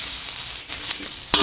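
Alamang shrimp paste sautéing with ginger, onion and garlic sizzles in a pan, a constant close frying hiss broken by light stirring scrapes and a louder clatter at the end.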